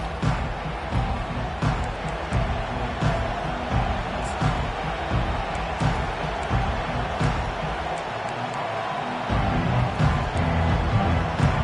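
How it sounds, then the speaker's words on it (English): Steady roar of a large stadium crowd at a football game, a continuous wash of cheering and chatter with no single voice standing out. "This crowd bringing the energy and noise early."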